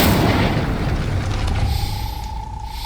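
Incendio fire spell cast in the video game Hogwarts Legacy, a loud, deep whooshing blast of flame that booms at once and then fades away over about three seconds.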